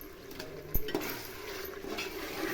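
A whole packet of masala frying in oil in a pan over a high gas flame, a steady close sizzle with a stirring scrape and a brief clink of utensil partway through.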